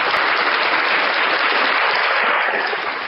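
Steady, dense audience applause at a talk fills the whole stretch, loud and even, with no voices over it.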